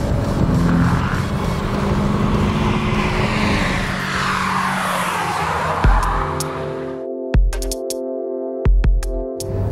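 Renault Sandero RS at full throttle on a race track, a loud sustained engine roar with rising pitch under acceleration, then gear changes and revving bursts near the end.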